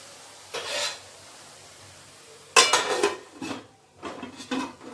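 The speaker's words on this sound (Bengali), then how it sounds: "এটাকে এবারে ঢাকা দিয়ে দেবো" Metal lid clattering onto a cooking pot of red spinach in a home kitchen, a short clank followed by a few softer scraping and knocking sounds close by, with quiet gaps between.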